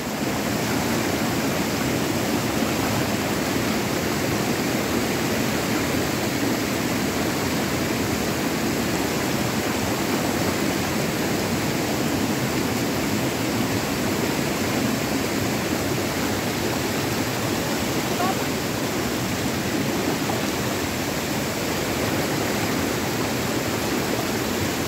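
Strong river current rushing at a waterfall in Lelepa, Vanuatu, heard as a constant, loud wash of churning water that holds steady for nearly half a minute with no speech.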